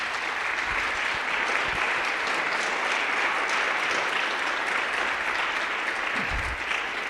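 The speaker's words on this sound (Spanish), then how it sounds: "¿Por qué no le das un aplauso al Rey?" A church congregation applauds the King during a Spanish-language sermon, dense steady clapping filling the whole stretch at even loudness, with a few low thumps and no speech over it.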